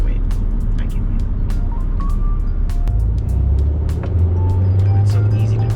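A 1998 BMW Z3 roadster cruises at 60 in fifth gear, its engine giving a steady, loud low drone with road and wind noise throughout.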